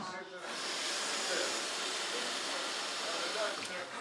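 Water running steadily into plastic jugs, a continuous hissing rush that starts after a brief quiet moment and holds at an even, fairly loud level throughout.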